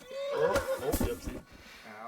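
A horse in the video game Kingdom Come: Deliverance II gives a loud, close whinny when spooked, a rising and falling neigh lasting about two seconds with a brief quieter trail at the end.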